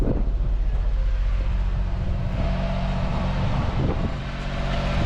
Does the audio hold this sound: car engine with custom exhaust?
yes